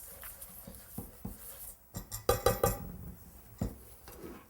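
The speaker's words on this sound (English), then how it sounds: "Give it a quick stir just to make sure there are no big lumps." A spoon knocks and scrapes inside a pot while granulated sugar and half and half are stirred for chocolate fudge, giving a string of close, clattering clinks and taps that bunch together midway.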